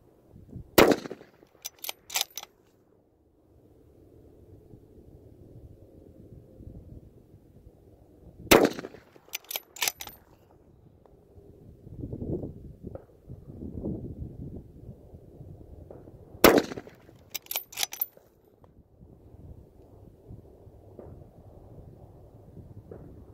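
Rifle shots crack out while zeroing an optic at a target, three sharp loud reports spaced several seconds apart, each followed by quick echoes or clanks, with quiet wind and low murmuring between them.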